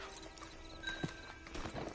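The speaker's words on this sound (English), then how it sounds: "Get on the horse there." Horse hooves clip-clop on a dirt path in the video game Red Dead Redemption 2, as a soft, steady rhythm over quiet outdoor ambience, with a faint snort midway.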